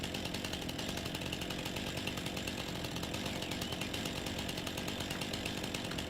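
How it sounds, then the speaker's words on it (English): A chainsaw felling trees in Farming Simulator 19 drones on steadily, a continuous buzzing engine roar with little change in level from start to finish, moderately loud and with no talk. "Crank that chainsaw, and let's get to cutting."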